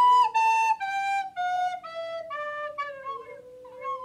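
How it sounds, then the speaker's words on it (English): Soprano recorder sounding a series of lower notes with more finger holes covered, clear breathy tones stepping gradually downward, played alone up close with no talking. "So this soprano recorder will make a higher sound."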